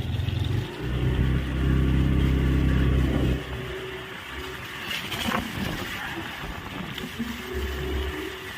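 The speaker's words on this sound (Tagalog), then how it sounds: "lakas talaga ng hangin" Strong wind roars steadily during a rainy storm, a dense broadband rush with heavy low rumble that eases slightly partway through, loud and close with no voices.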